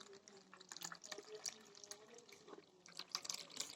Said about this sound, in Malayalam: ഇനി നമുക്ക് ഗ്ലാസ്സിലേക്ക് ഒഴിക്കാം.